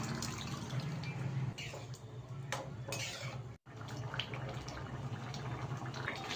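Boiled dal is poured into a simmering potato curry, a wet, continuous sloshing and splashing of liquid, close and fairly quiet, with no talking.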